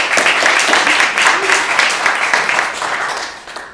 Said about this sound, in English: And round of applause for those